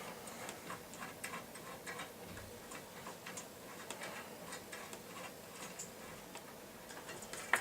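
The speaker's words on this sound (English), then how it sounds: "take the nut off" A metal nut turns along the threaded float rod of a level switch, giving faint, steady ticking clicks at a regular pace, quiet and close with no talking.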